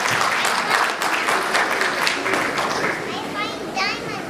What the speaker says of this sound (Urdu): بہت ساری تالیاں ندیم ملک صاحب۔